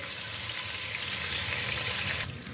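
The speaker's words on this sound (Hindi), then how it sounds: "अब इसकी अच्छे से भुनाई कर लेंगे कि लहसुन अदरक का कच्चापन ख़त्म हो जाए।" Garlic, ginger and chillies frying in hot oil in a pan, a continuous close bright sizzle with no talking, easing slightly at the end.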